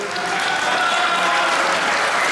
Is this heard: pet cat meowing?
no